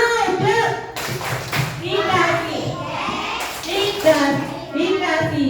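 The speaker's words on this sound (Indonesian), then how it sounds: "beri aplaus dulu dong buat kelompok 5" A classroom of children claps for a presenting group: brisk, uneven applause from many small hands, close by, mixed with children's voices talking and calling out.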